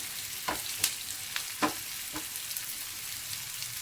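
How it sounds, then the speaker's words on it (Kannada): Onions frying in a small pan, a continuous soft sizzle punctuated by a few scattered stirring clicks and taps from a spoon, close and fairly quiet. "ಇದು ಈರುಳ್ಳಿ ಸ್ವಲ್ಪ ಫ್ರೈ ಆಗಲಿ"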